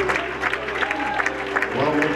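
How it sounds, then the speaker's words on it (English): Church congregation clapping along during worship, scattered hand claps over a low sustained music and voice bed, with people talking or calling out under the clapping. "Come on, clap your hands and tell God thank you."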